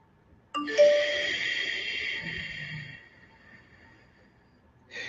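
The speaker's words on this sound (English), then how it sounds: "That ding, if you heard that, that was just something on my computer" A computer notification ding rings out clearly near the start, a bright bell-like chime with a long fading ring, then a softer second tone rises again at the very end.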